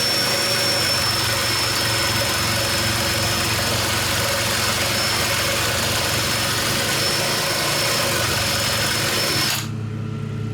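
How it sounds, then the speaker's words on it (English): A wire wheel spins against auto body sheet metal on an R32 GTR panel, a loud continuous grinding whir with a steady high whine that holds for about ten seconds and then cuts off abruptly. "I just use a wire wheel because it's it's very little abrasive"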